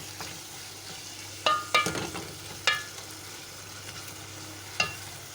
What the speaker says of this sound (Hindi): इसको अच्छी तरह भून लेंगे।